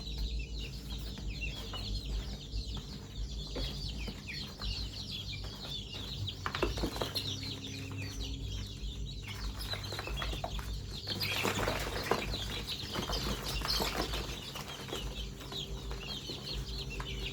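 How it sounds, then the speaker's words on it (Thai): Laying hens cluck and murmur continuously in a Thai backyard flock, with occasional wing flaps and livestock noise, faint and steady with no talking. "นี่เป็นไก่ไข่นะครับ"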